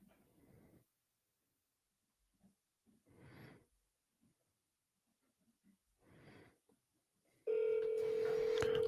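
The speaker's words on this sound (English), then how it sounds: "it's annoying for you guys to listen to a phone just ring and ring and ring" Outgoing telephone call ringing back in a quiet room, three spaced ring bursts with silence between, followed by a loud steady tone at the end.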